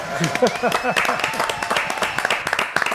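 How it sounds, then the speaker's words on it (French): Studio audience applause on a French television game show, a burst of scattered clapping running under overlapping chatter and voices from the set, fairly close and lively. "Applaudissements."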